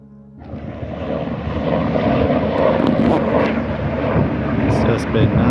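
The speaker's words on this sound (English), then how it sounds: "Been all these helicopters and airplanes and everything just kind of flying around." Aircraft pass overhead near Fort Mifflin with a propeller-plane engine drone that swells in over a few seconds and then holds steady and loud, while a person talks underneath.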